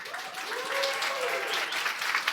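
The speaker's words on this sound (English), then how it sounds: "Please, a round of applause for Flutter." Audience applause rises at a coding bootcamp demo day, a steady, moderately loud wash of clapping lasting a couple of seconds, with a voice briefly heard over it.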